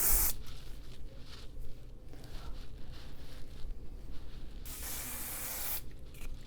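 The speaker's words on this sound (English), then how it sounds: "This is just a Garnier hairspray." Garnier hairspray released from an aerosol can in long continuous hissing bursts, close and fairly loud, with a short pause before a final spray.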